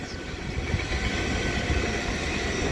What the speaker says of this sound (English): Another GWR IET for London Paddington from somewhere.